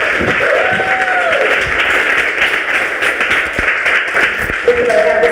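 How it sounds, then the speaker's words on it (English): An audience at a hair and cosmetology panel claps together in a loud, continuous ripple as a guest is brought out, with voices faintly mixed in. "Why don't you give her a round of applause?"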